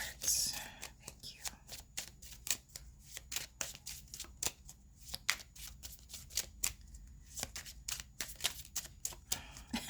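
Tarot cards are shuffled close up in a rapid, crisp series of riffling snaps and slaps, quiet overall with a faint soft voice in the background.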